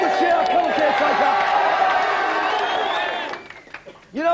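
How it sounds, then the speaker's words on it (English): Studio audience cheering and applauding on a 1993 video game show during the team championship final, a dense, loud crowd roar with clapping and voices that holds steady for about three seconds, then thins out and fades. "Give them a cheer."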